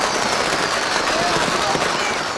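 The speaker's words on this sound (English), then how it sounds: "as firecrackers exploded all around" Dense, crackling bursts of firecrackers go off continuously at a crowded town homecoming celebration in China, loud and close with no pauses.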